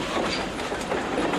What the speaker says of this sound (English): The line this train is rolling on is the old Baltimore and Ohio, Wheeling to Columbus main line